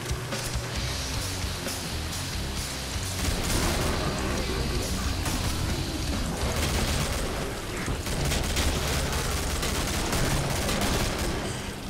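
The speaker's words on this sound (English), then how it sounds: "Scar bursts." Bursts of SCAR rifle fire in the video game Killing Floor, while zombie hordes are held off. The shots come thick and steady throughout, loud and dense, with booming impacts layered under the gunfire.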